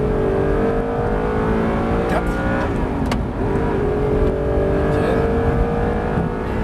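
A high-revving Audi R8 engine screams at full throttle nearby, pitch climbing through gear changes, with a brief voice speaking over it.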